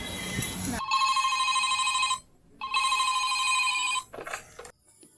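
An old-style telephone bell rings in two long bursts with a short gap between, loud and close, followed by a brief shuffle.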